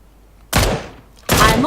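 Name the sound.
gunshots in video game PlayerUnknown's Battlegrounds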